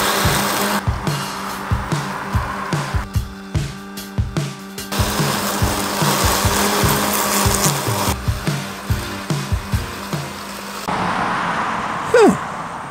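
Mammotion Luba 2 robot mower cutting grass about 4.5 inches long, a steady whirring drone with repeated rhythmic chopping pulses that runs close and loud, then trails off near the end.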